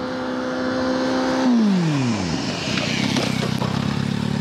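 A motorcycle brakes during a rider training maneuver on a Zeeland road: a loud steady engine tone drops sharply in pitch as it slows, then settles into a rough low idle rumble.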